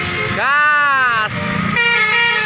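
A bus sounds a melodic telolet horn, loud and close, sliding up into a sustained musical tone before shifting to a second chord; voices are heard around it.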